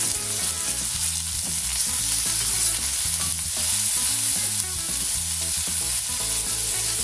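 Chicken cheese kababs shallow-fry in a pan, making a loud, dense, continuous sizzle and bubbling of hot oil up close, steady throughout with no talking.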